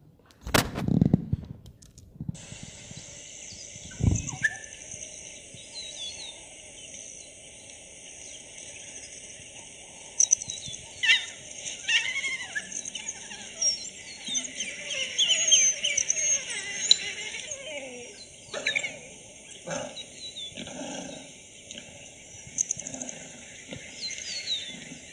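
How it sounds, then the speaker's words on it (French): Recorded calls of African wild dogs (lycaons): a dense chorus of high, bird-like twittering and squeaky chirps that runs steadily for the whole stretch, with a few thumps and handling noises near the start. "C'est pas des cris d'oiseaux, c'est les lycaons."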